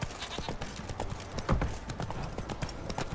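Horse hooves clip-clopping at a steady trot in The Witcher video game, a loud, close rhythm of hoofbeats with a possible whinny, alone without talk.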